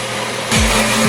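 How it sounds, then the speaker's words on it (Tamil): A blender grinds milk and sugar into a milkshake. After a short quiet start, the motor kicks in halfway through and runs as a loud, steady whirring whine. "இப்போ ஒரு 30 செகண்ட்ஸ் மாதிரி இதை நான் அரைச்சிருக்கிறேன்"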